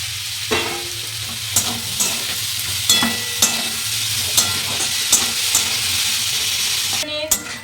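Onion and tomato sizzle and fry in a pan, a steady loud hiss broken by regular scraping stirs, with a brief clatter near the end.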